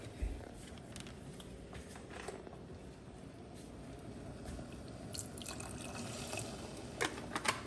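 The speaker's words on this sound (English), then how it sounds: "we're going to put now just a little splash of orange juice in there" A small splash of orange juice goes into a pan of pork loin gravy, heard as a soft trickling pour with scattered drips and faint sizzling. There is no talking.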